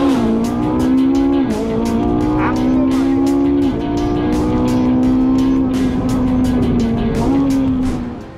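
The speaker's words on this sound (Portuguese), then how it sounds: "E olha o que acelera, olha o barulhinho dela." A Ferrari 458 Italia in Gran Turismo 7 at Spa screams through high revs under acceleration, with brief dips at upshifts across its seven gears, loud and constant while someone talks over it.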